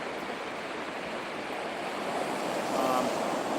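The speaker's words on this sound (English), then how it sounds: "So go ahead and enjoy the sound of the ocean." Ocean surf rolls onto a beach at night in a steady, broad wash, with a wave swell building slightly toward the end; no one speaks.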